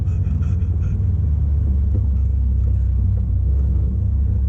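A Subaru BRZ engine rumbling as the car pulls away, a steady low drone heard from inside the cabin, loud and continuous, with no talking.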